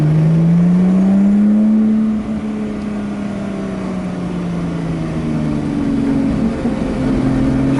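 Lotus Exige S Roadster engine held at a loud, steady drone close by, the pitch sliding down slightly and then climbing again toward the end, with no talking.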